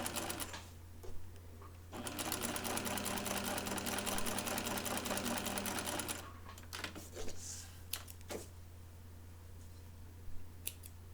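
A sewing machine stay stitches around the back neckline of a blouse in one steady, close run of about four seconds, with faint handling clicks before and after.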